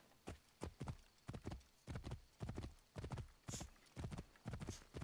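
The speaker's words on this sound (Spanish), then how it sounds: "Vente para acá, caballo." Horse hooves clip-clopping at a steady walking pace in Assassin's Creed Origins, close, even and rhythmic, heard alone.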